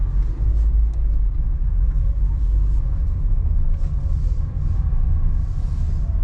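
A Nissan Versa with a failing CVT transmission drives along, with a loud, steady low rumble of engine and road noise throughout and no speech.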